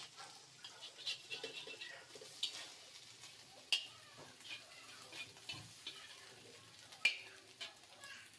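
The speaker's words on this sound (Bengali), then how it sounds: "এবার এই ডিমগুলো ভালো মতো ঝুরি ভাজা করে নেব।" Beaten eggs scramble-frying in a pan for a spicy chicken masala pasta, a quiet, low sizzle broken by occasional sharp clicks of a utensil against the pan.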